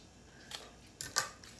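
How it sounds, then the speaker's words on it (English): Two quick crisp snips, faint and close, as a stem of Israeli Ruscus greenery is cut with scissors during a tropical flower arrangement, preceded by a softer rustle; no talk. "I'm removing the foliage, cutting the stem"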